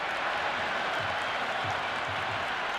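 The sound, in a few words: crowd applause after a six in Cricket 26 video game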